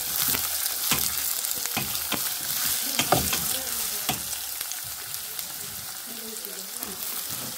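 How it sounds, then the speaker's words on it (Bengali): Chopped onions added to oil already holding fried garlic hiss and crackle in a pan, with regular stirring scrapes and knocks throughout. "রসুনটা তো তেল দিয়ে বাজলাম। এখন পেঁয়াজ দিলাইলাম"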